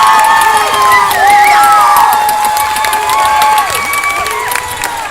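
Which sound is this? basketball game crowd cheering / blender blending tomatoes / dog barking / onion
basketball game crowd cheering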